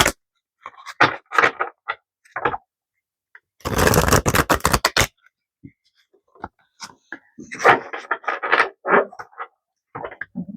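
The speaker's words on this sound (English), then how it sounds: "One more shuffle." Tarot cards shuffled by hand in short riffling bursts, several quick flurries separated by pauses, close and crisp with no talking.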